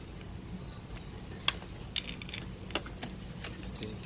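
A hand ratchet works on a 14 mm brake caliper bolt on a Chevy Captiva/Equinox rear brake, giving a few faint, scattered clicks against a quiet background.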